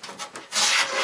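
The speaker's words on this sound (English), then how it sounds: "I want to make sure I don't get overzealous with the planing and cruise right past the knife line." A hand plane shaves wood at a knife line on a tool cabinet part, giving a few short scraping rasps and then one longer, louder, steady stroke, close and alone.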